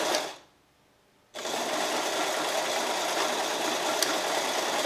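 An old sewing machine runs under foot-pedal control, a steady close mechanical whir starting after a brief near-silent pause and holding evenly to the end, with no talking.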